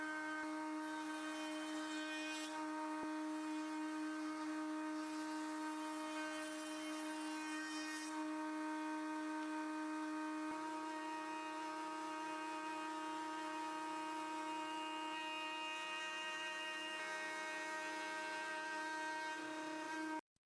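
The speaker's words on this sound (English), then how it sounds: "I'm going to run a few tests to show off some of the router's functions." A router fitted with a bearing-guided chamfer bit runs in a homemade router table, milling small or curved wood pieces. A steady, loud high-pitched whine holds for about twenty seconds with slight shifts in load, then stops abruptly.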